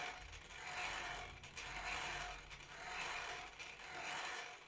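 Hand crank electricity generator being turned by hand, a faint rhythmic whirring and ratcheting that rises and falls in steady cycles about once a second.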